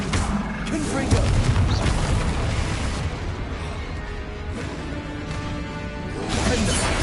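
Confringo blasting curse explosions in the Hogwarts Legacy video game, a dense run of booming blasts and crashes layered with whooshing spell effects, loud and continuous over game music and battle noise.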